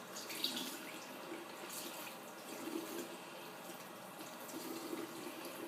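Water rinsing through hair during a gentle salon-style hair wash, a steady soft running stream like a faucet with faint drips, close and quiet, with no talking.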